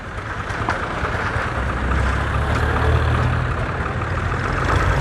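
A tractor engine runs at a highway shoulder construction site while concrete is loaded into it, giving a steady, loud low rumble that holds throughout without pause.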